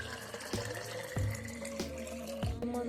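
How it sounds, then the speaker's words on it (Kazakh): Water poured into a glass holding citric acid powder, a running, splashing pour broken by a few soft knocks of the glass, close and fairly quiet. "үстіне су құйып ішетін боламын"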